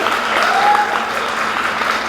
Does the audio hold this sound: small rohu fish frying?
no